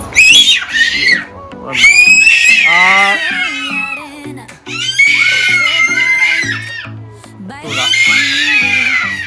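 Children shriek and scream indoors at night in long, loud, high-pitched bursts with brief pauses between them.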